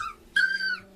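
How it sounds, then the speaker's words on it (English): Three-week-old Sheepadoodle puppies whimper close by: a high, thin whine that swells into a longer, louder cry, with faint squeaks before it. "This is a litter of Sheepadoodle puppies born on the 12th of January 2015."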